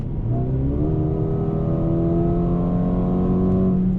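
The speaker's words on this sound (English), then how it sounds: "6th gear, Sport Plus, foot all the way down now." A 2020 Mercedes-Benz CLA35 AMG in sixth gear and Sport Plus mode accelerating at full throttle after kicking down, its engine note climbing steadily in pitch as revs rise, loud and close, with no talk.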